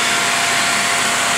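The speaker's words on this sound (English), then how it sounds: "So I said the vacuum pump is also new." A steady, loud motorized whir with a broad hissing tone runs continuously without variation from a new vacuum pump on a Logitech 1WSB2 substrate bonder close by.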